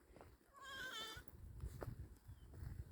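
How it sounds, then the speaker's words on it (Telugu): A baby goat in a pen shaded with green mesh lets out a single wavering bleat, faint and nearby, over low rustling background noise. "మేక పిల్లలు ఉన్నాయి."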